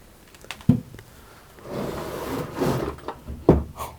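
Old wooden drawers in a house abandoned for thirty years slide open and shut, with two sharp knocks at the start and end around a longer scraping, rubbing slide in the middle, close and moderately loud, no speech.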